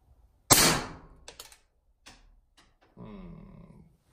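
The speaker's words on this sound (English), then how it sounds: "I've never shot suppressed on this Magnetospeed or a 22 for that matter" A single suppressed shot from a Beretta 21A Bobcat .22 pistol: a sharp, close crack with a short decaying tail, then a few faint clicks and a brief voiced sound afterward.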